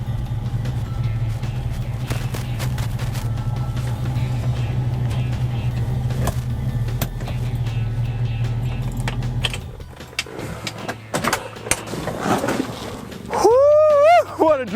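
A 1968 Ford Mustang California Special cruising on the road gives a steady low engine and road drone that fades into quieter cabin noise, with brief speech near the end.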